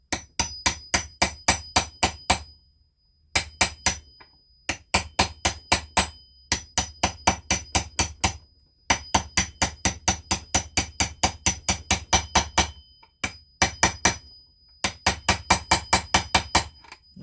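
Metal-on-metal hammer blows driving a crank seal onto a Poulan chainsaw crankshaft with a 9/16 socket, close and sharp, in rapid bursts of five to ten strikes separated by short pauses, with no voices.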